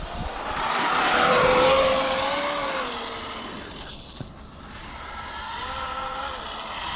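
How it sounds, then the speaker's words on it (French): A turbocharged car engine winds up and revs under load, its rising and falling tone joined by tire noise, loud and close, then easing off before building again. "Il faut un petit temps que le turbo il prenne"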